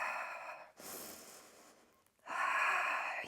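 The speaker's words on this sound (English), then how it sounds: "Take 3 deep breaths here" Deep breaths taken while holding a Pilates position, a long airy inhale, a brief pause, then another strong breathy exhale, close and unaccompanied by talk.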